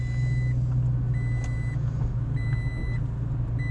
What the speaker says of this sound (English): That TRD Pro exhaust sounds great, doesn't it?